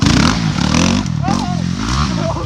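A Yamaha MT-09 motorcycle engine revs and pulls hard, a loud, close, rising growl with throttle surges, heard in a semi-automatic Y-AMT ride.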